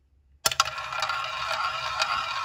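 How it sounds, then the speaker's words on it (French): A small roulette wheel spins after a sharp start, its ball rolling and rattling with a steady bright whir and occasional light clicks, close and alone without talk. "pendant que je fais tourner la roue"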